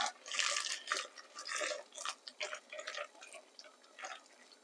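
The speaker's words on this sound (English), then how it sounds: "we're just going to pop the hot water over the top" Hot water pours from a kettle over food in a home kitchen, a close, bubbling gush in uneven bursts that fades and returns.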